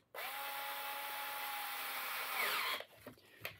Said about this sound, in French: Hop, sur la visseuse.